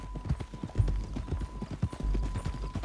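Horse hooves clip-clop at a steady walking pace in the video game Red Dead Redemption 2, with soft close thuds over a low ambient hum.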